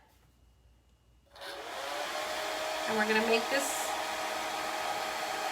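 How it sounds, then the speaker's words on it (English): Blow dryer switches on after a quiet start and runs as a steady, loud whirring roar while drying a Halloween craft project, with a brief spoken phrase near the beginning. "so let's get our blow dryer."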